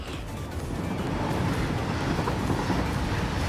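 A train rolls along in the factory-building video game Satisfactory with a steady, dense rumbling clatter that holds at an even level throughout and has no voices over it.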